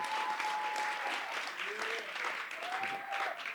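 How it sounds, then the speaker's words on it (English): Sustained applause from a workshop audience at a jazz music event, dense steady clapping filling the room with a faint tonal whistle or feedback tone above it. "So give yourselves a round of applause as well."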